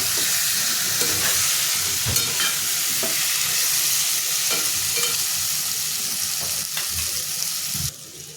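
Masala-stuffed ivy gourds (tondli) being stirred and tossed in a hot pan, steady sizzling and frying with repeated scraping clinks of a spatula against the metal, close and fairly loud.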